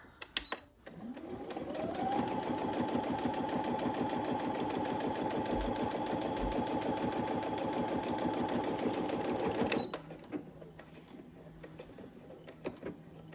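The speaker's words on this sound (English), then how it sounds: "Put my presser foot back down and finish sewing to the end." A sewing machine stitches a zipper pouch, spinning up within the first second into a steady, even mechanical whir that holds for about nine seconds before stopping abruptly, leaving quiet clicks and handling noise.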